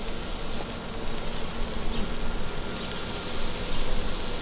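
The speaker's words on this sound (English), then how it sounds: "We're going to put these chicken wings on here. You hear that? That's the sizzle we're going for." Chicken wings sizzling on a hot grill, a steady broadband frying hiss that holds fairly even and close throughout, with no talking.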